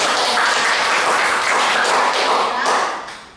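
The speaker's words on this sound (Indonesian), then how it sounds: "Oke, beri tepuk tangan." Students in a classroom clap together after an Islamic religious education lesson, a loud, dense, close round of applause that holds steady and then fades out near the end.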